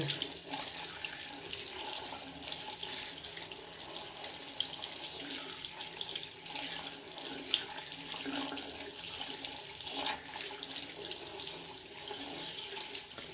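Cold water runs from a household tap in a steady, continuous splashing stream into a sink, close and moderately loud, with no talking.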